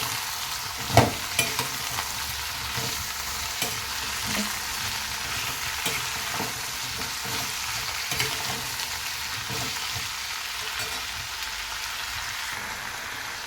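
Capsicum potato sabji with curry leaves and salt frying in a pan, steady sizzle throughout with scraping stirring strokes, one sharper clatter near the start, no voices.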